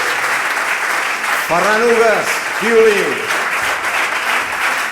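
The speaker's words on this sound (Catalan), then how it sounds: "un fort aplaudiment, sisplau." Audience applause at a concert as the musicians of a string-and-guitar group are introduced, steady broadband clapping running underneath a voice announcing names.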